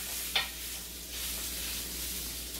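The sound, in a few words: zucchini fritters sizzling in pan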